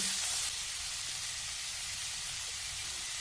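Potatoes sizzle steadily in a hot pan as they are stirred, a continuous close frying hiss with no voices, slightly louder in the first half second.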